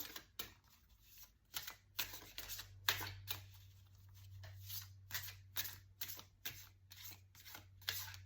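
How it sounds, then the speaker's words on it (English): A new tarot card deck being shuffled by hand, giving a quick series of crisp riffling and slapping bursts in an uneven rhythm over a low steady hum, with no talking. "My new deck here, let's get 2 cards for you."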